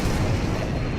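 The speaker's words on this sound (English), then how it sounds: "There's still more explosions." A deep, rumbling explosion from the survival video game Stranded Deep, with a sustained low boom filling the moment, loud and close with no talking.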